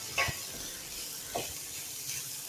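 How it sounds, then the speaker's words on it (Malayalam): Chicken fried rice being stir-fried over a high flame, giving a steady close sizzle with a few brief scraping stirs spaced across the moment. "നമ്മളിങ്ങനെ ഇളക്കി കൊടുത്തുകൊണ്ടേ ഇരിക്കണം."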